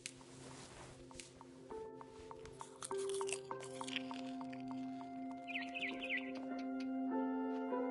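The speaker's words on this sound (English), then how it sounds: "Then I heard chirping outside my window." A barn swallow chirps outside a window in the video game What Remains of Edith Finch, short high calls scattered over a steady tonal game soundtrack, fairly faint against the music.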